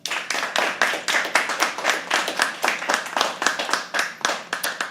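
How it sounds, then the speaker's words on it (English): A small audience at a live poetry open mic claps steadily for the performers, a handful of close, distinct handclaps in a quick even rhythm lasting throughout. "Can we all please clap for them?"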